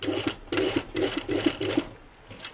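A sewing machine stitches a "Brigand" jacket made from a kit, running in quick rhythmic bursts of rapid needle thumps with short pauses between them, close and clear, with no talk over it.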